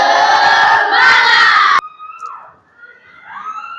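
A class of children chants a spirit-clap cheer loudly in unison for almost two seconds, then it cuts off abruptly, leaving quiet, faint voices.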